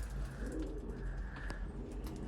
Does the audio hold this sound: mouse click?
no